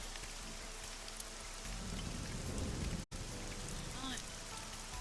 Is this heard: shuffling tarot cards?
no